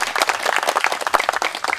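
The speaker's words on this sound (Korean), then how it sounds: "여러분들 박수 한번 쳐주시기 바랍니다" A brief burst of dense applause from a crowd, many hands clapping steadily and close.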